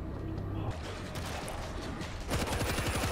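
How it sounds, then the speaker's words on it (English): Rapid machine gun fire in a zombie shooter game set in Jerusalem, a dense crackling barrage throughout that grows heavier and more rhythmic near the end. "Deploy machine gun."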